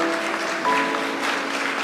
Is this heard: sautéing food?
no